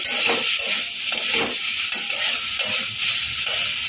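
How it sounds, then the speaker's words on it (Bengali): Steady sizzling in a hot pan with repeated scraping strokes as bitter gourd is stirred and tossed, close and fairly loud throughout. "উচ্ছেটাকে দিয়ে একটু নেড়ে চেড়ে নেবো ভালো করে"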